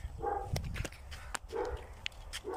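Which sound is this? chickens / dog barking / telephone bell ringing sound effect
dog barking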